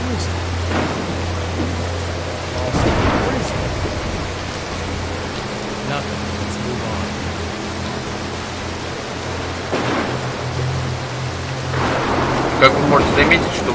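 Rumbling thunderstorm from the Mark of the Ninja video game, with steady rain noise and a low hum throughout, broken by several sharp thunder crashes and lightning cracks, the loudest near the start and end.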